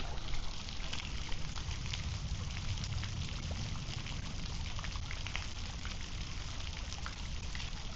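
Steady water flowing and trickling, a constant wash of sound with no voices.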